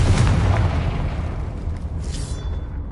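A Confringo blasting spell explodes in Hogwarts Legacy, a loud, deep boom with a rumbling tail that slowly fades, then a smaller crackle near the end.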